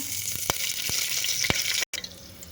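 Curry leaves dropped into hot oil for a mutton trotters curry, giving a loud, close, hissing sizzle with a few sharp crackles, briefly cutting out before the spattering resumes.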